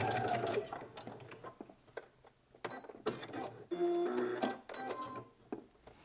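A home sewing machine stitches a pajama sleeve along a seam line in short, quiet bursts, stopping and starting with pauses and small clicks between runs.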